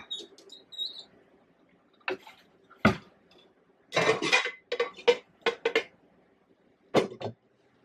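Metal pots and pans clank and clatter in short separate bursts as they are moved around on a shelf in a small New York City kitchen, near and fairly quiet, with pauses between knocks.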